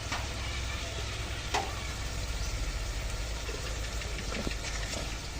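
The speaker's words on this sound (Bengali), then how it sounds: "ওই কষানোর সময় মশলার সাথে দিয়ে দিচ্ছি আলুগুলো।" Potatoes stir-fried in a pan with spice masala while Bele and Tengra fish curry is cooked with ridge gourd, giving a steady, even sizzle with occasional faint scrapes of stirring, no talk.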